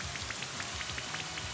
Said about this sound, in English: Rain Dance with Wooper.